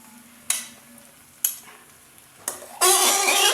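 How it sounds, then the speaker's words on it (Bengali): Cooked chicken kosha spooned onto biryani in a pot: three sharp scraping clanks spaced about a second apart, then a loud sustained sizzle from the pan, with no speech. "এইবার আমি দিয়ে দেবো আসল জিনিসটা, সেটা হচ্ছে এই চিকেন কষাটা আমি এর ওপরে দিয়ে দেবো।"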